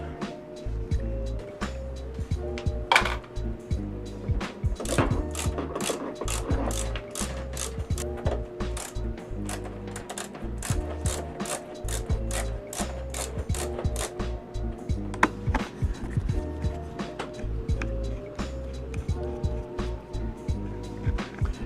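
A ratchet removes bolts from a CRF110 pit bike during teardown, a continuous, close run of rapid metallic clicking that goes on steadily for over twenty seconds.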